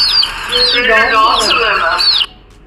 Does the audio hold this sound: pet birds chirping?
yes